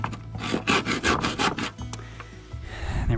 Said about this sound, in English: I'm just coming here with my handsaw.